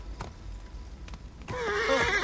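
A horse in Assassin's Creed Origins gives a loud, quavering whinny after a few soft hoof clops, the neigh rising up close and alone at the end.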